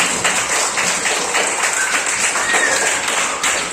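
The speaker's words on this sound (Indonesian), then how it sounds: "Tepuk tangan untuk kita semua dulu." Group applause at an Indonesian teacher training session on computational thinking, a steady wash of many hands clapping at once, fairly loud and continuous without talk.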